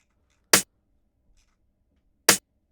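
Two sharp snare hits, well separated with silence between them, each a crisp broadband crack with a short decay.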